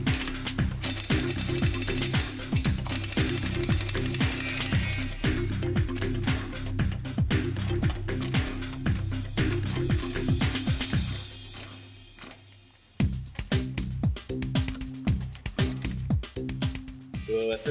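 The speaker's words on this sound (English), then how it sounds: "Next thing we're going to do is disconnect the two main mounting bolts." Car strut hub assembly mounting bolts being removed with a rapid, loud rattling impact wrench that runs in long bursts with a brief pause, while someone talks over it.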